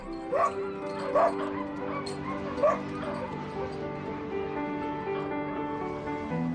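Dogs in the company of a polar bear bark and yip in a few sharp, close bursts early on, then settle into softer whimpering over a steady low background.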